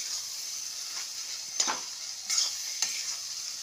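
Egg frying and being stirred into a spice masala in a pan for egg dal tadka, a steady soft sizzle with a few brief scraping stirs, close and alone.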